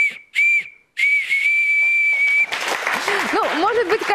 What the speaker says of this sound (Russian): вот такая деревянная игрушка-свистулька, она очень почитаема в этом месте